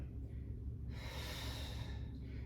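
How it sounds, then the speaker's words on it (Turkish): Deep breathing during a Pilates swimming exercise, a long, strong exhale rising out of quiet breaths, close and soft with no talking over it. "Derin nefes alıp veriyorum."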